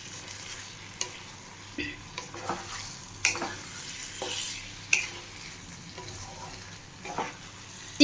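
Chicken sautéed in spices for chicken khichuri, stirred in a pan with a steady low sizzle and intermittent scraping strokes of the spoon, close and fairly quiet, with no talking.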